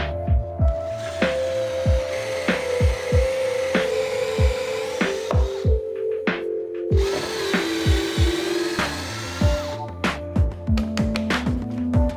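A power drill drives screws into a wooden workbench top in a string of short bursts, each motor whine rising and cutting off, with sharp clicks and knocks between runs, close and loud.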